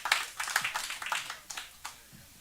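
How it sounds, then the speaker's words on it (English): A comedy show audience claps in a scattered round of applause, individual claps distinct and fairly close, thinning out and fading over a couple of seconds. "y'all give it up for Jackson Namey, ladies and gentlemen"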